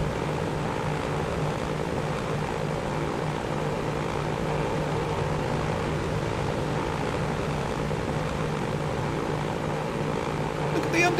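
Douglas DC-3 propeller airliner engines in the Transport Fever video game: a steady, continuous droning hum with a low rumbling throb, holding constant and fairly close throughout.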